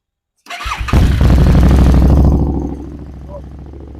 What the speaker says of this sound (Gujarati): અવાજ તમને સંભળાવી દઉં એક સેલ્ફે સ્ટાર્ટ કરશું અવાજ બહુ ખતરનાક છે